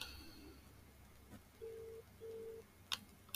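An outgoing telephone call rings in the earpiece with two short tonal ring bursts, each under half a second, quiet and slightly distant, followed by a couple of faint clicks.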